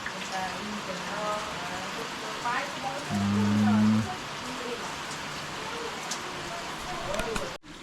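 A sudden monsoon downpour in the Konkan region makes a steady, even hiss of rain that continues throughout. It dips briefly near the end.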